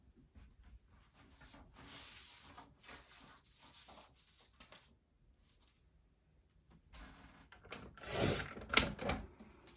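Fabric for a wavy sails quilt layout being cut, a faint scrape and shuffle early on, then a louder, closer burst of cutting near the end.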